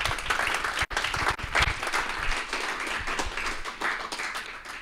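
A room of colleagues gives a round of applause at a business program launch: steady clapping from a modest crowd, with one brief gap near the start before it carries on evenly.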